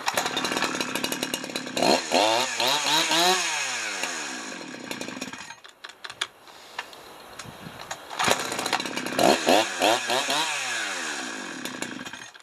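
Chainsaw engine running rich after a carburetor rebuild and low-speed adjustment, revving up and down in loud rising and falling sweeps, then dropping to a rough, faltering idle before revving again.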